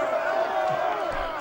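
Dense, continuous crowd roar from a rowdy mob in GTA Vice City, steady and loud throughout, with a sports-style commentator's voice running over it.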